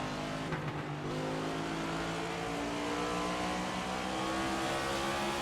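Stock cars race in the NASCAR 25 video game, a steady loud engine drone with layered harmonic whine holding throughout, packed close and continuous with no talk.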